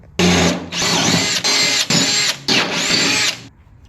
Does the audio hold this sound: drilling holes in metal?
yes